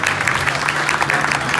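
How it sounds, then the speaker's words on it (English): Applause from an audience at a teenage talent audition after an original song, a loud, dense burst of clapping with a low hum beneath it. "Give her a big round of applause one more time for Teagan."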